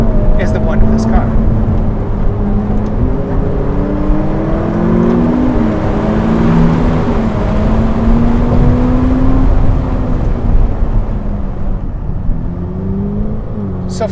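Ferrari F8 Spider's V8 engine running in race mode, revving up and down through rising and falling tones. The engine stays loud and close throughout, with a few brief higher-pitched whirs layered on top.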